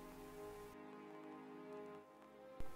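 Steady rain falls in a rainy area of a video game, a soft continuous hiss of drops on surfaces, faint and even throughout, with a brief thump near the end and no talking.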